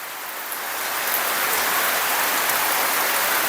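Rain falls steadily on a surface, a dense, even hiss of countless drops that swells slightly at the start and then holds at a constant, fairly loud level with no voices.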